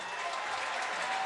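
A stadium crowd at a Featherstone Rovers versus Dewsbury Rams Championship rugby league match applauds a try, giving a dense, steady roar of clapping that fills the moment and runs on without a break.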